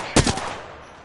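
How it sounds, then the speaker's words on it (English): In Apex Legends, a single sharp enemy gunshot cracks close and loud, followed by a short echoing tail that fades out within a second, with no talking. "The enemies are shooting at me."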